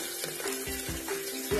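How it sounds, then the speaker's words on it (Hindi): Green chillies, cumin and chopped garlic frying in hot oil inside a pressure cooker, a steady close sizzle with brief stirring knocks, no talk. "कुछ देर तेल में भून लेंगे।"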